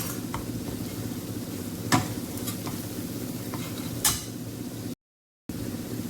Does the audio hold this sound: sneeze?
no